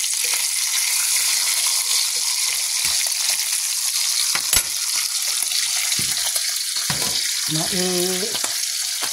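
Limp bacon sizzles and crackles steadily in a hot pan for a home breakfast, a continuous frying hiss with a brief sharp clatter midway, and a voice speaking briefly near the end.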